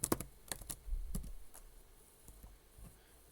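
Keystrokes on a computer keyboard while typing programming code, a scattered run of sharp clicks, close and fairly loud at first, then sparser and fainter taps, with no talking.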